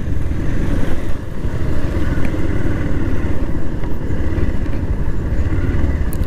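A motorbike rides along the hilly Sajek road in Bangladesh. A loud, close, continuous engine roar mixes with wind rush and holds nearly steady for the whole stretch.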